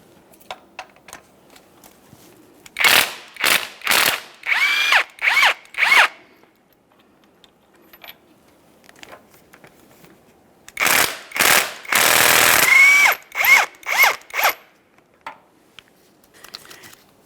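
Bursts of rapid ratcheting from a tool backing out a 17mm bolt on a 2012-2015 Honda Civic 1.8L transmission mount come close and loud in two clusters separated by a quiet pause.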